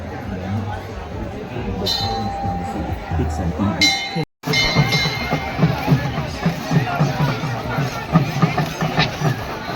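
A large crowd gathered in the rain for a Dashama idol immersion, dense chatter and shouting voices close by with clinking sounds, a brief dropout midway, then the babble resumes with rhythmic thumping underneath.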